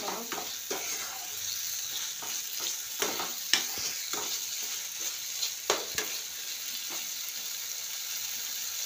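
Spice masala with capsicum sizzles in a pan for a vegetarian paneer masala, a steady frying hiss broken by repeated close clinks and scrapes of a spoon stirring.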